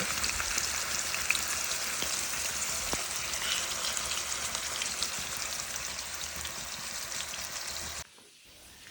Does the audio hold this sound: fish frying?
yes